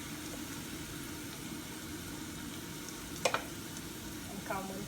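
Homemade vegetarian curry spices, including turmeric, red chili, garam masala, cumin and black pepper, frying together in a pan: a steady, even sizzle throughout, with a few brief clinks near the end.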